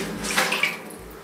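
Water in a bathtub while a cat is washed, a short close splash and slosh with a brief rushing surge and gentle trickle, no voices.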